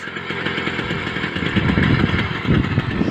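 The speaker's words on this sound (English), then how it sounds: "the BT100 started up first fire. I'm just going to let it sit there and warm up" A small two-stroke motorized bicycle engine (BT100) idles up close while warming up, a steady rattling putter that swells slightly toward the end, with no voices.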